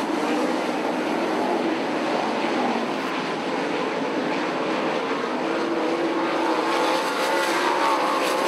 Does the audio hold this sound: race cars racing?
yes